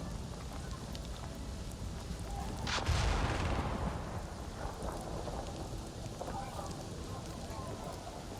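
Thunderstorm in Avatar: Frontiers of Pandora, with steady rain throughout and a loud rolling thunderclap near three seconds that slowly fades back into the downpour.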